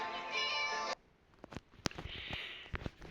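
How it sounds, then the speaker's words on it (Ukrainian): A cat meows loudly and close for about a second in a sustained, harmonic call, followed by quieter rustling, clicks and small handling noises indoors. "Хватить нявкати."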